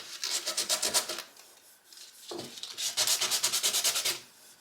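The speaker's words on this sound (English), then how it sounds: "Let me grab a little sanding block here quick" A small sanding block rubs back and forth on a cheap Dollar Tree wooden picture frame, two bursts of rapid, rhythmic scratchy strokes separated by a brief pause, close and fairly quiet.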